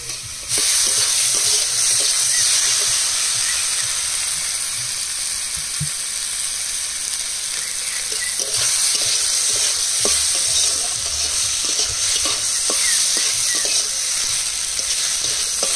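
Onions and tomatoes fry in a pan as chili powder goes in, a steady close sizzle broken by frequent stirring scrapes and clinks, loud and continuous with no talking.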